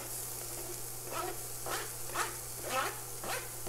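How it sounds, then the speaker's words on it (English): Celery sizzles in a pot on an electric hot plate, a soft, faint frying hiss with a few stirring bursts and a low steady hum underneath. "Hear the sizzle?"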